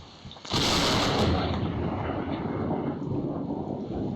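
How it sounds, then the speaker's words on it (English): A lightning bolt strikes a police car, caught on a security camera: a sudden loud crack bursts in and then rolls on as a sustained, roaring rumble that stays near and heavy to the end, with no voices. "This security camera caught That's this police crazy. car getting struck by lightning."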